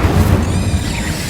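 A fire spell cast in Hogwarts Legacy: a dense, loud whooshing burst with low rumbling booms and crackle that fades over about a second, with no talk over it.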